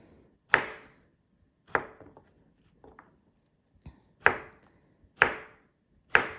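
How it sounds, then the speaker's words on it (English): A knife chops zucchini on a cutting board in sharp, distinct strikes, about five loud cuts spaced roughly a second apart, with softer taps in between, close and clear. "And once again, chop."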